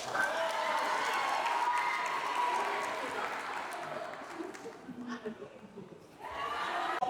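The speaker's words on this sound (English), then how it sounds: "Please, round of applause for her." An audience at a forex and blockchain expo breaks into applause, a loud wash of many hands clapping that fades toward the end before a brief swell, with voices mixed in.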